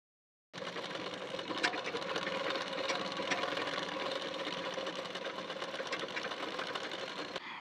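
Close, steady whirring of a sewing machine stitching the side seam of patiala pants, running continuously after a brief silent start.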